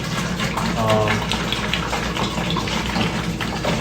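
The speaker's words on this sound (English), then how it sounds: "We're gonna pour 1 gallon of our cold water in there." Cold water pours steadily into a Mr. Beer plastic fermenter, a loud continuous gushing and splashing with a brief low voice underneath.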